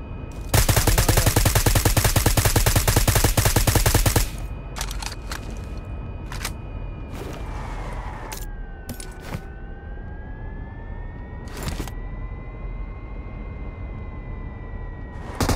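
Gunfire in the video game BGMI comes first as a loud rapid automatic burst lasting a few seconds, then as scattered single shots over a steady engine hum.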